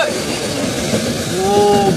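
A moving passenger train, the Amaravati Express, runs near Dudhsagar, heard from inside as a loud continuous rumble with a brief thin squeal of wheels near the end.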